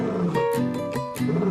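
A tiger roars in a single close, loud call with a few rough surges, heard alone with a steady tonal hum underneath.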